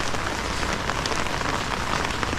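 Rain falls steadily on nearby surfaces, a dense close patter of drops with no voices.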